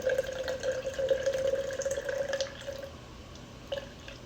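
A thin stream of water, about 60 grams, trickling and splashing into a sourdough starter container for a couple of seconds, then tapering off to faint drips.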